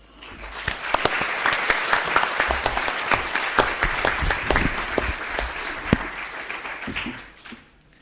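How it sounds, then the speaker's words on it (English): An audience at a foreign-policy forum claps for the event volunteers, a lively burst of individual hand claps that builds, holds steady for several seconds, then tapers off at the end. "So I think we should applaud for them."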